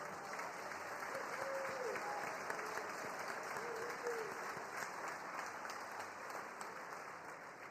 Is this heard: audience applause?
yes